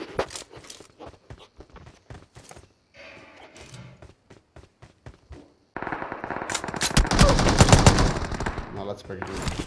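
Gunfire from a bot in the BGMI mobile battle game: scattered single shots and short bursts over the first half, then a loud, dense stretch of rapid automatic fire through the rest.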